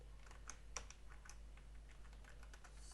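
Light, rapid keystrokes on a computer keyboard as a database query is typed, quiet and continuous over a low steady background hum.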